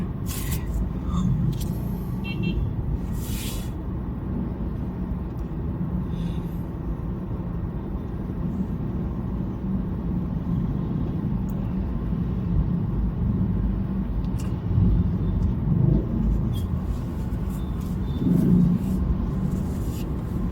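Road traffic on the way from Lilo-an to Cebu IT Park, a continuous low rumble of passing cars and vehicles, with faint voices now and then.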